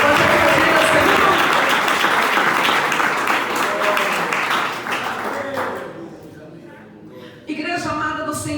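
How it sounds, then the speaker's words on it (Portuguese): Congregation at an evangelical church service applauding, loud sustained clapping that tapers off around the middle, followed by a brief quiet gap and then a voice speaking. "Pode aplaudir ao Senhor."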